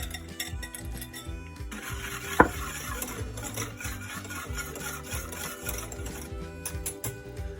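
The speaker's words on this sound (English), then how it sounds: "we're just gonna whisk in what we just heated up" Whisking heated sugar mixture into cream for classic crème brûlée, a steady rhythmic scraping and stirring close by with one sharp clink partway through, no talking.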